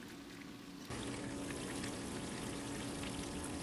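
Water pours steadily into an Intex pool sand filter tank, starting abruptly after a quiet moment and continuing as a close, constant rushing splash.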